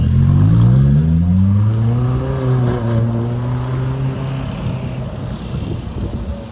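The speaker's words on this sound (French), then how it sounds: "il y a une autre 458 spéciale, jaune cette fois. Je pense qu'elle va accélérer." A yellow Ferrari 458 Speciale with its naturally aspirated V8 accelerates hard, a loud rising engine note climbing through the gears close by before easing off and fading on a city street.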